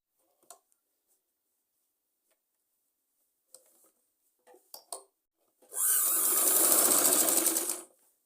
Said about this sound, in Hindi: दोनों कलियों को हमने ऐसे ही आसन के पास से डबल डबल सिलाई लगा लेंगे